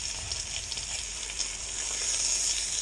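Food searing in a cast iron pan, with browned bits stuck to the bottom for making gravy; a steady, loud, dense hiss of sizzling fat with faint crackles, close and unbroken by speech.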